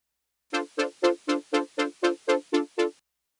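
Ten evenly spaced electronic dance music synth stabs repeat at a steady pulse, each a short, bright, harmonically rich chord note, moderately loud and alone.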